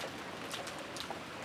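Soft steady rain in the visual novel Umineko, a faint continuous patter with no other sounds.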